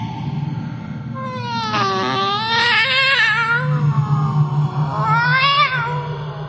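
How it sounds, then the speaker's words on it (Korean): A cat cries in a radio drama sound effect, giving a string of drawn-out, wavering meows and wails that rise and fall in pitch over a low background hum. "고양이 울음소리가 점점 커졌다"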